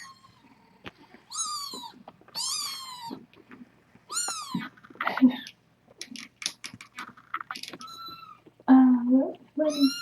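Tiny kittens meowing in a series of high, thin cries, several in a row close to the listener, with a voice talking softly in between.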